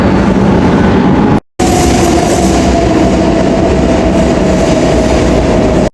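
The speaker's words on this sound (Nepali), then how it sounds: "अब आउँदैछ मेट्रो उताबाट" A Madrid metro train rumbles loudly through an underground station, its wheels clattering in a steady, close roar that briefly cuts out before continuing, with a thin whine running through it.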